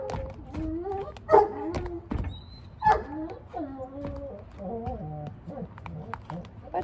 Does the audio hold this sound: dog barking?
yes